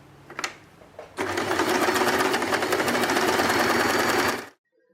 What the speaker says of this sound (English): So I'm going to make basting stitch right in the middle of the fabric using our headband size.